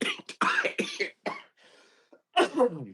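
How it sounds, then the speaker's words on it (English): A harsh coughing fit: several rough, close-up coughs in quick bursts, a brief pause with a faint breath, then another loud burst of coughing. "sorry, I had a cough attack."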